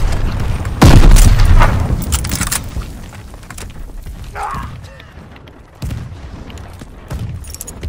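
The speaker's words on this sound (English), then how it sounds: "That's a grenade" A grenade explodes in the World War II shooter Vanguard with a heavy, close boom, followed by debris, scattered gunfire and a second, smaller blast near the end.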